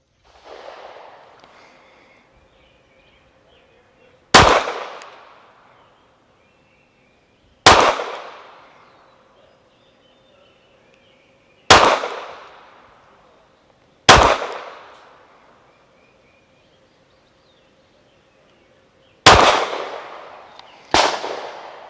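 A Tisas PX9 Carry pistol fires six sharp, loud shots at an outdoor range from 25 yards, spaced a few seconds apart with short decaying echoes and quiet gaps between them.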